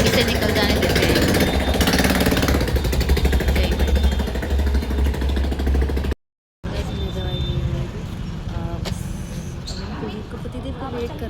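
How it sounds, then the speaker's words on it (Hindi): A noisy motorbike rumbles close by on a village path, loud and continuous for several seconds before a brief cut, then fainter engine and street noise afterward. "एक बाइक आ रही है, इतना शोर कर रही"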